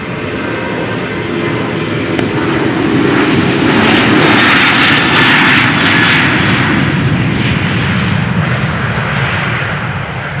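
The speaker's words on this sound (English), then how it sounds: "The 737 is spooling up" Boeing 737 jet engines at Amsterdam Schiphol Airport spool up into a steady, loud roar with a rising whine, continuous and close, with no voices.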